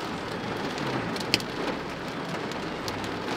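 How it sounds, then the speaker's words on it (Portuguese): Hail falls outdoors with a constant dense patter and a few sharper ice impacts, including one distinct crack, steady and moderately loud throughout. "tá chovendo granizo"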